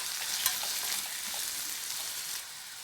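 Tomatoes and onions fry in a pan with a soft, steady sizzling hiss and light stirring sounds, fairly close and alone with no talk.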